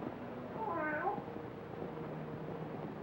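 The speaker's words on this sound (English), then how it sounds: "how often have I told you to keep that cat from desecrating my graves?" A single drawn-out cat meow, faint and distant in a graveyard at night, rising and falling over a low steady hiss of old film sound.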